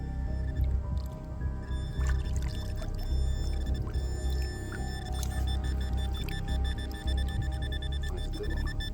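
Steady electronic beeping tones from a Minelab Equinox metal detector repeat over continuous low rumbling noise, with clicking and rustling handling sounds throughout.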